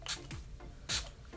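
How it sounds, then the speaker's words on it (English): Two short, soft hisses from a pump spray bottle of Wet n Wild Coconut Primer Water misting onto a makeup brush, close and quiet. "I just spray the brush like this"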